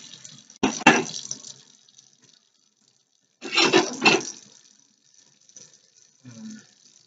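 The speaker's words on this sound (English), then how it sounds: "Running water through the pipes." Tepid tap water runs into a kitchen sink and down the pipes in two separate bursts of splashing flow, with a brief quieter trickle near the end.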